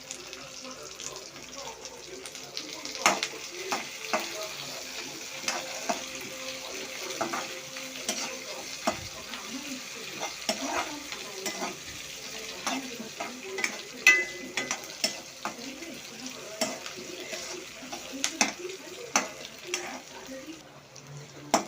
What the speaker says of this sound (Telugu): ఇది బాగా ఫ్రై చేసుకోవాలి. ఇది ఫ్రై అవుతా ఉంది.